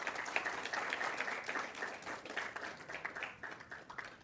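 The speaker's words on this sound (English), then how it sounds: "May we please have a round of applause for them" Audience applause at a public safety workshop, a steady patter of many hands clapping at moderate volume, sustained and fairly even before fading slightly toward the end.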